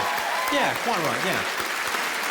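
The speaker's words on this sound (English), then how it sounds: "Let's have a round of applause for the ladies." A comedy club audience gives a round of applause for the ladies during a comedian's stand-up, steady clapping under someone speaking over it.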